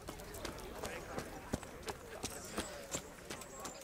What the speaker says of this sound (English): There's another horse there.